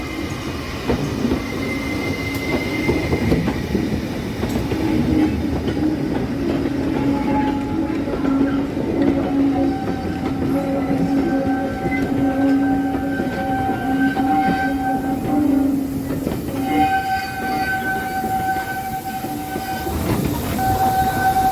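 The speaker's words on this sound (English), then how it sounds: "At 3:44, Stanley and Twizel brought a mixed passenger and freight up from East Tanfield." Steam locomotives Stanley and Twizel haul a mixed passenger and freight train on the approach to Causey Station on the Tanfield Railway, a steady loud rumble of wheels on rail with squealing flanges and a sustained whistle-like tone, no voices.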